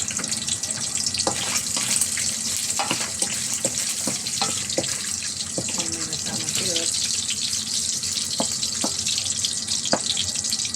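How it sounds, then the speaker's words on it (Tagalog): Pork frying in a hot pan for gisadong sotanghon, a steady loud sizzle with scattered pops and clinks of utensils running throughout without talk. "Hayaan muna natin siyang maprito-prito guys."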